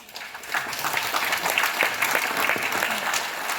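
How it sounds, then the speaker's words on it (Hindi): Audience applause at an RCM Star Ruby meeting class, a steady dense patter of many hands clapping that swells after a moment and holds at an even level throughout. "ताली बजाओ।"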